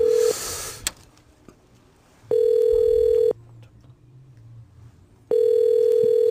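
A telephone ringback tone sounds in two long pulses separated by silence, the call going unanswered.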